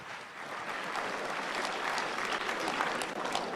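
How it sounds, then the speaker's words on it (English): Debate audience applauding wildly at a 2016 Libertarian presidential debate, steady dense clapping that holds at a constant moderate level for several seconds, with no voices over it. "people in this audience are applauding wildly at this nonsense."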